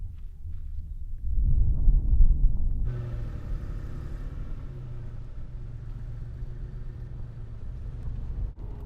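A truck camper rolls over a rough, bumpy road in the Eastern Sierras, a low rumbling drive with a thump-heavy surge early on, then a steadier cabin hum.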